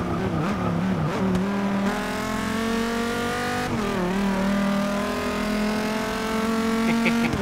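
A McLaren race car's engine drones steadily at high revs around the Nurburgring in a racing game, its pitch dipping on shifts and braking before climbing again as it accelerates, loud and close throughout with no talking.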